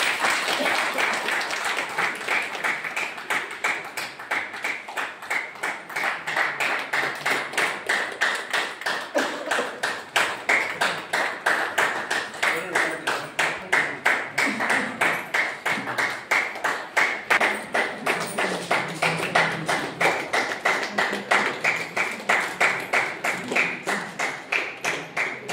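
A crowd at a Jyotirao Phule birth anniversary gathering in Dharmagarh claps in steady unison, a long run of evenly spaced loud claps that holds a regular beat from start to finish.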